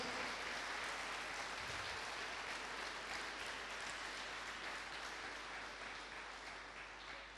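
A church congregation applauds during a Spanish-language sermon, steady broadband clapping that fills the room throughout and tapers slightly toward the end, with no voices over it.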